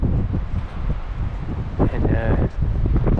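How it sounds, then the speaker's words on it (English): Wind blows at Sevilla Lake in Kings Canyon National Park. Strong gusts buffet the microphone with a low rumble, and a few faint sounds rise briefly over it. "it's pretty windy"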